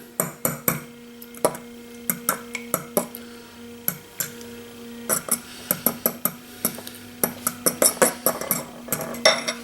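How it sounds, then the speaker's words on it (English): Eggs for licorice eggs are beaten in a bowl with rapid, rhythmic clinks of a utensil against the sides. The strokes come close and bright in quick bursts with short pauses between them. "Now we're going to mix our eggs up."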